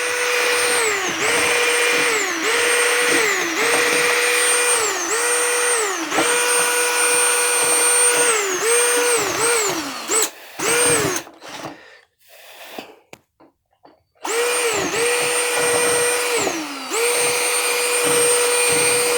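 An electric drill with a bit bores into an engine part, whining in repeated bursts that spin up, hold and wind down, close and loud, with a quieter gap in the middle before drilling resumes.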